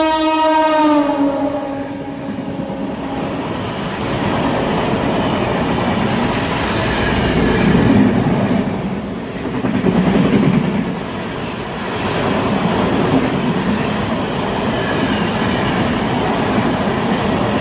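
An express train passes loudly and close by, opening with a long blaring horn blast. A heavy rumble and rolling clatter of wheels on rails follow, swelling and fading as the carriages go past.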